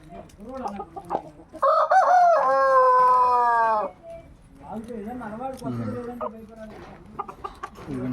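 A fighting rooster crows loudly in a long sustained call, with clucking from red and white roosters around it and people talking nearby.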